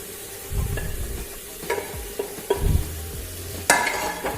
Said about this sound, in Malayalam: ഇതിലേക്ക് തക്കാളി അരിഞ്ഞ് ചേർത്ത് കൊടുക്കാം.